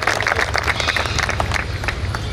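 Applause from an audience at the inaugural ceremony of the Lions Mahotsav 2024 festival in Chiplun, a steady, dense wash of clapping that carries through without pause.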